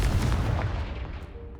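A Confringo explosion spell fires in the video game Hogwarts Legacy, a loud, dense blast that starts at full force and rumbles for a moment before slowly thinning out.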